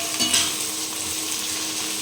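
Bhujia, a vegetable fry, sizzles in a pan as it turns crisp. A steady, close, hissing crackle continues without pause and with no voices.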